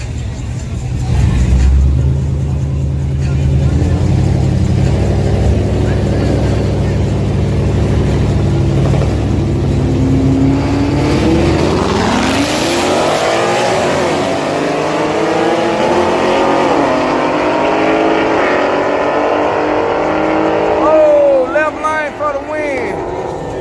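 An Audi TT and a Camaro at a drag strip, running on Mickey Thompson tires after a burnout, engines roaring loudly and rising in pitch as they launch and pull away, with people talking over the noise.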